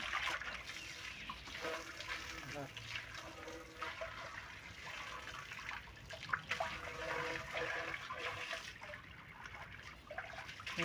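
A lotus pond being emptied, its water let out and draining away in a steady rushing, trickling wash that runs the whole time, close and moderately loud.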